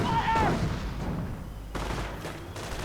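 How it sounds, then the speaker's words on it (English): Anti-tank guns fire in a World War II real-time strategy game as Shermans and panzers clash, a dense layered rumble of distant gunfire and booms with a brief whistling streak, continuous and fairly loud. "Anti-tank guns firing away though."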